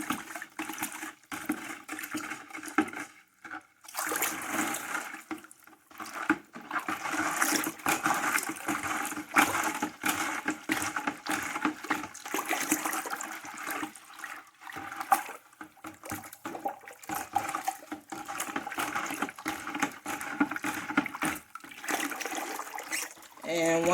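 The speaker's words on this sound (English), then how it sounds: "I stir it up to dissolve it." Washing soda and borax being stirred by hand into a 5-gallon bucket half full of hot water for homemade laundry detergent: steady sloshing and swirling water runs throughout, fairly close, with a person talking over it at times.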